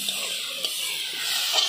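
Pork with chilli and turmeric spices frying at an outdoor picnic cook-up, giving a continuous bright hiss of sizzling with a few faint stirring touches, fairly close and without talk.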